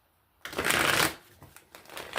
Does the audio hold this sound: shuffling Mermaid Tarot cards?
yes